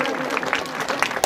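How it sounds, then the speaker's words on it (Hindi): An audience applauds at a stage performance of Nani Bai ka Mayra, a brief burst of scattered clapping mixed with crowd murmur that swells toward the end. "जोर से ताली बजाओ माता बहना।"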